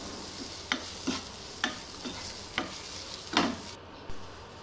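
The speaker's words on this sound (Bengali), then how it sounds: "এখন এই মশলার সাথে সব কাঁটা ছাড়িয়ে রাখা মাছগুলো খুব ভালো করে মিশিয়ে নিতে হবে।" Deboned rohu fish is stirred into a fried spice mix in a pan, with regular scraping strokes of the spoon over a soft, continuous sizzle, each stroke a distinct brushing thud.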